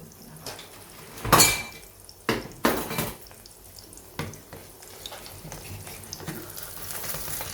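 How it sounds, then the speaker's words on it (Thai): Bowls, plates and spoons clatter as they are set out in a home kitchen while basil omelette is made, several sharp clinks and knocks in the first half, then softer scattered taps over running-water-like background noise. "เตรียมถ้วยเตรียมจาน เตรียมช้อน"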